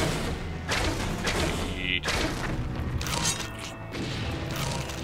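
Crates being smashed open in a video game: a run of heavy thuds and crashing breaks at irregular intervals, loud and close, with clattering debris between the hits.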